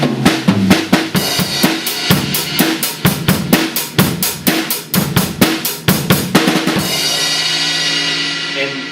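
A drum kit plays a fast, driving intro of rapid hits and fills, loud and close, ending on a crash cymbal that rings out.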